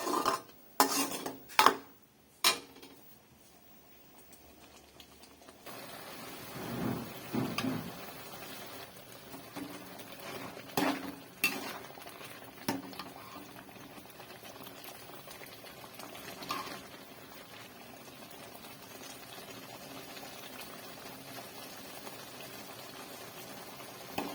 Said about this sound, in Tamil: ஒரு அஞ்சு நிமிஷம் அப்படியே கொதிக்க விட்டுக்கலாம்